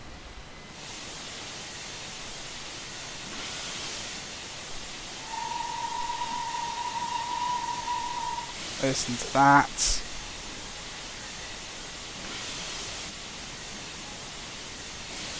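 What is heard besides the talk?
steam locomotive hissing steam in Train Simulator 2021 video game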